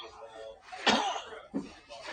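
A single harsh cough rings out near the middle, followed by a smaller throaty cough, close to the listener with faint background murmur.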